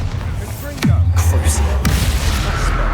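Bombarda spell explosion in the Hogwarts Legacy video game: a sudden loud blast with a falling whoosh, then a heavy sustained rumble and a second sharp hit about a second later.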